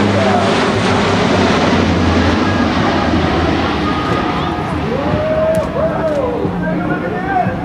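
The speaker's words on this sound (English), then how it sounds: "Get your cameras ready, because you're going to get a good shot of this airplane." A Lockheed C-130J turboprop flies a demonstration pass at the Rhode Island airshow, giving a loud, continuous roaring drone that stays strong throughout, with a faint announcer voice under it.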